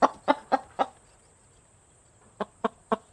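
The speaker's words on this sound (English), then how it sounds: "Chicken, chicken, chicken." Chicken clucking in two bursts: four sharp clucks in a quick row, a pause, then three more, clear and fairly close with no talk.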